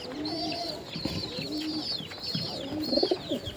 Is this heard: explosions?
no